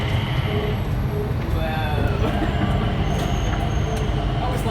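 An inter-terminal train at Changi Airport carries riders between terminals, giving a loud, steady rumble of rolling wheels with brief squeals and rattles layered over it, heard from inside the car.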